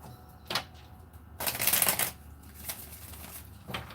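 Tarot cards are shuffled by hand in a few quick riffling bursts, the longest in the middle, close and crisp against a quiet room.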